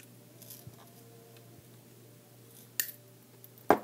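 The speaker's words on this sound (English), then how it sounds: "And then you're going to have to cut it with your wire cutter" Wire cutter snipping thin wire for a handmade hand chain, two sharp, close clicks near the end of an otherwise quiet stretch with faint background hum.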